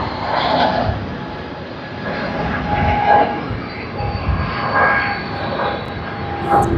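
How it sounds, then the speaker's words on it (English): Airbus A330-300 arriving from Singapore at Sydney Airport, a loud, steady broadband jet-engine roar with a faint whining tone, heard close throughout. "292 from Singapore on the Airbus A330-300."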